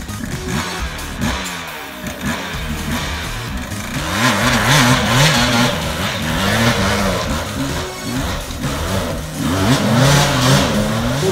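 An enduro motorcycle engine revs hard on a steep, near-impossible climb, rising in repeated loud wavering surges that build after a quieter start, with no voices.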